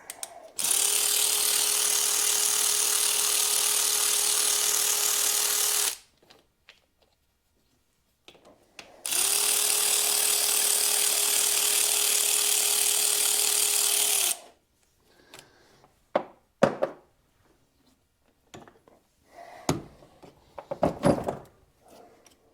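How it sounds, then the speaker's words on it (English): An electric ratchet works on the valve cover bolts of a Massimo MSU 800 side-by-side, running in two steady whirring bursts of several seconds each, followed by quieter clicks and metallic handling noises. "I'll use my electric ratchet."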